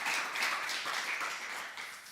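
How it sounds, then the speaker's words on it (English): Audience applause at the end of a conference talk at JuliaCon, a steady wash of many hands clapping, moderately distant and fairly quiet, tapering slightly toward the end, no speech over it. "you give them a round of applause"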